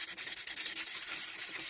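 Opal rock rubbed back and forth on sandpaper atop a table, giving a steady, close scratchy grinding with regular rhythmic strokes throughout and no voices.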